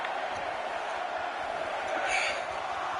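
Wrestling arena crowd in the WWE 2K20 video game chanting a count in unison, a steady dense roar of many voices filling the space with a slight swell near the end.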